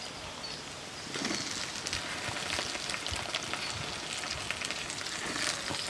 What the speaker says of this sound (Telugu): ఇప్పుడు ఇందులో మనం నిలువుగా కట్ చేసుకున్న వంకాయ ముక్కలు వేసుకుందాం.